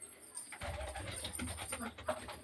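A pigeon held in the hands flutters and coos, with soft wing rustles and low bursts of cooing close up, while a voice speaks under it.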